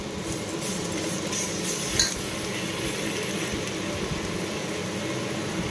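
Spices for a prawn curry being sautéed in a pan, with a steady sizzle throughout and an occasional clink of a spoon stirring, close and constant.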